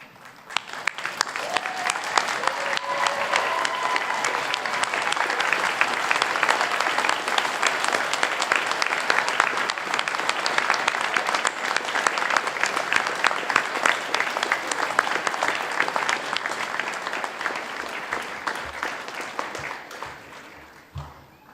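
A hall full of university graduates at a convocation ceremony applauds their families in sustained, dense clapping that holds steady and slowly tapers toward the end.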